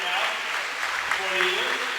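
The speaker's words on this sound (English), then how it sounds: "he gets a round of standing applause from the fans for Josh" Applause and cheering rise from fans in a high school boys' basketball gym for a player, a broad steady crowd wash that holds loud throughout, with voices mixed in.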